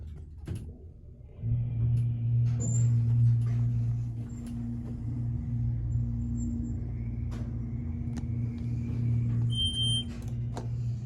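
A brand-new Excel hydraulic service elevator motor, a replacement unit at Freehold Raceway Mall in New Jersey, starts up with a steady low hum and drone under faint clanks and a few high beeps, running alone without talk.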